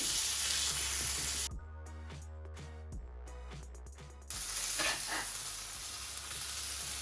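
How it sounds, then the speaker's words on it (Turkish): Steady sizzling of folded flatbread tacos frying in a pan, with a few seconds of clattering, ratcheting mechanical noise in the middle before the sizzle returns. "İki tarafını da kızartacağız lavaşların."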